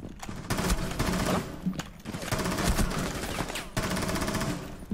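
Near, continuous automatic gunfire in Rainbow Six Siege deathmatch, rapid bursts with only brief pauses that keep up for the whole five seconds.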